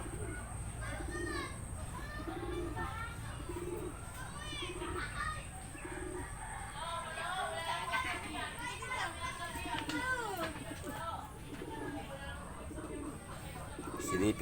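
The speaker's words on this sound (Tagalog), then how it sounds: "Silipin natin ang alagang kalapati ng misis ko" Pet pigeons coo in a slow repeating rhythm, low and soft, with chirping birds and distant voices mixed in around them.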